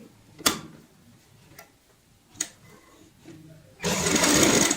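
A sewing machine stitches a cushion cover in a short, steady burst near the end, loud and close, after a few quiet clicks and handling taps.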